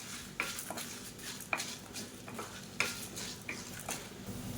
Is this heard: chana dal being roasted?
yes